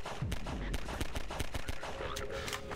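Continuous gunfire from the video game Half-Life 2, a quick series of close shots over a constant, noisy game background.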